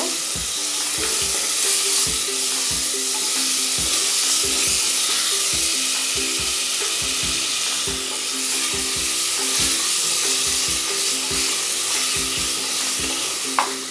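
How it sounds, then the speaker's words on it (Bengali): Chili powder and spices fry in oil, likely in a pressure cooker, with a constant bright sizzle and a rhythmic scrape of stirring repeating every second or so, close and loud throughout. "তেলের সঙ্গে মশলাগুলো একটু ভেজে নেব।"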